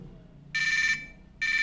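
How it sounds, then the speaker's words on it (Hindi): A toy phone rings with two short, bright electronic ring bursts separated by a brief pause, loud and close against a quiet background. "अरे फोन आ गया, उठा लिया मैंने।"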